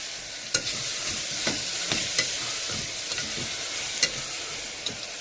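Tomatoes go into onions frying in a pan for mutton curry, producing a continuous bright sizzle with scattered spatula taps and scrapes at irregular intervals, close and moderately loud, with no voices.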